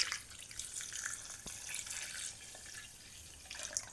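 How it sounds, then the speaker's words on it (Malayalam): Milk pours into a glass for a KitKat shake, a soft, faint liquid trickle and splash lasting a few seconds in a quiet kitchen. "ഗൈസ് നമ്മളൊരു ഗ്ലാസ് പാലാണ് ഒഴിച്ചിരിക്കുന്നത്"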